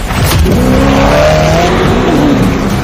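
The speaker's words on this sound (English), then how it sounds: "The reason this car is one of the fastest on the planet is because of its twin turbocharged V8 engine" A supercar's twin-turbocharged V8 engine roars loudly as it accelerates hard, pitch rising through the revs with a dense, rumbling exhaust close by.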